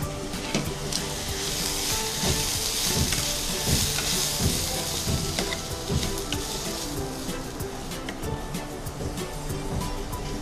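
Shrimp frying in a pan with chopped chilli and coriander sizzles continuously and loudly up close, with occasional stirring scrapes and little else.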